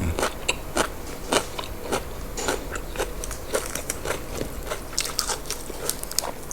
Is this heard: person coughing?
no